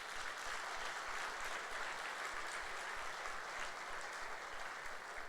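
Sustained applause from a church congregation at a Sunday service, a dense steady wash of clapping holding even for several seconds at moderate distance.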